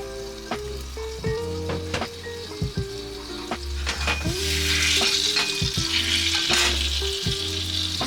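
Shallot onion sauce sizzling loudly in a heated frying pan, with a steady bright hiss swelling midway and repeated scraping, stirring knocks of a utensil against the pan.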